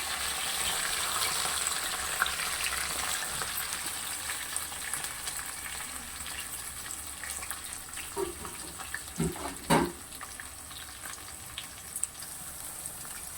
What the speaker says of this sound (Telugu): ఉల్లిగడ్డ గోల్డ్ కలర్ వచ్చేంత వరకు ఫ్రై కావాలి